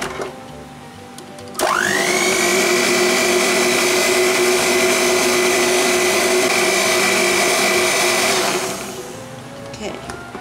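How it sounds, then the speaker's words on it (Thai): Electric mixer beating fruit cake batter, a loud steady motor whine that starts abruptly, runs for about seven seconds close up, then winds down, with faint kitchen clatter around it. "ตีเพียงแค่ให้เข้ากันนะคะอย่าตีนานแล้วก็แป้งส่วนที่เหลือค่ะ"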